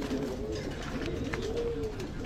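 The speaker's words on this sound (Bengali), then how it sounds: "এই যে দেখেন কবুতর" Pigeons cooing in a loft of white-bodied birds with brown necks, a steady low warbling coo repeating close by over faint background noise.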